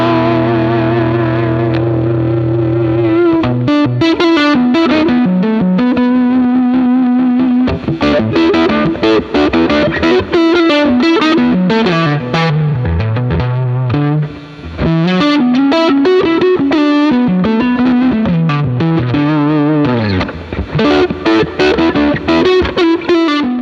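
Electric guitar runs through an overdrive pedal with the dry blend set around noon, playing loud, continuous distorted chords and riffs with a thick, saturated tone and no talking.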